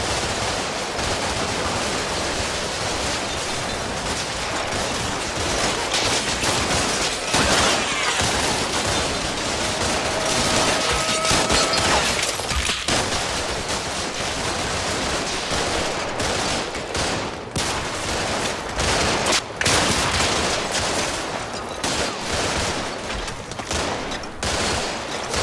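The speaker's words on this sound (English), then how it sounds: "Heavy machine gun." Heavy machine gun fire from the war game Combat Mission: Shock Force, with sustained bursts and rattling volleys rolling over a dense, noisy battlefield backdrop without pause.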